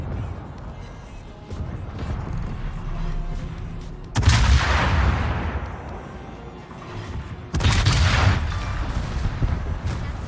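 Naval gunfire hitting the player's warship in a video game, two heavy crashing impacts a few seconds apart, each a loud booming burst that decays into rumble, over constant engine and sea drone.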